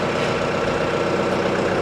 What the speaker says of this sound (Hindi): सबसे पहले मैं ट्रैक्टर को चालू करता हूँ।